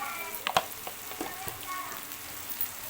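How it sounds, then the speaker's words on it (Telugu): Turmeric, coriander powder and other spices frying in a pan for a moong dal and fenugreek curry, a soft continuous sizzle with a few sharper crackles and stirring scrapes near the start. "ఇలా అన్నీ వేసుకున్నాక కలుపుకొని ఒక రెండు నిమిషాలు అయితే ఇలా వేగనిద్దాం"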